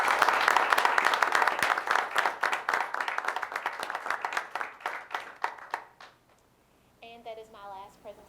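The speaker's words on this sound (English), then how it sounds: "Please join me in giving Shelly Feldman a great big round of applause." Audience at a board of education meeting gives a warm round of applause, loud and dense at first, then thinning into scattered claps that fade out, with a voice speaking briefly afterward.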